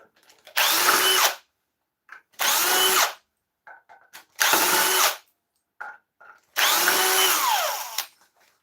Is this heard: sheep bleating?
no